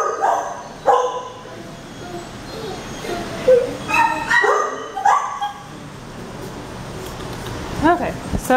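Dogs at an animal shelter bark in sharp bursts, with yips and whimpers in between, heard up close. A person talks softly among them.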